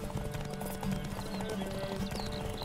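Horse galloping at full speed in The Witcher 3, a steady rapid clip-clop of hooves carrying on throughout, with layered game sounds and a faint snort or whinny underneath.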